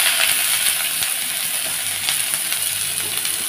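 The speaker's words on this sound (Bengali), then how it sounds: "এখন আমি দিয়ে দেব পেঁয়াজ কুচিতে" Chopped onion hitting hot oil in a wok (karai), a steady bright sizzle with occasional crackles and pops, close and continuous, with no voices.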